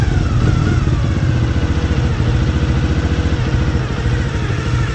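A Honda Dream 50 motorcycle with weak spark idles roughly up close, a loud, uneven, throbbing putter with faint mechanical clatter that holds steady throughout with no speech.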